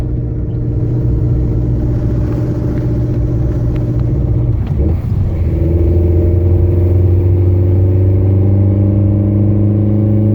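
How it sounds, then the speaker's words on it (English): Nissan Sentra SE-R Spec V engine running rough with a developing rod knock, a loud close steady drone that dips and stumbles briefly midway before settling into a lower, uneven rumble. "I think this thing's developing rod knot. Uh-oh, it's running really bad."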